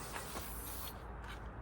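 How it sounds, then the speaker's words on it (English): A can of WD-40 sprays in one short hissing burst onto parts of a 2011 Yamaha FT60 outboard motor being cleaned. The spray is close and quiet, then drops to a low background. "I'm gonna grab some more WD-40 and just spray it down"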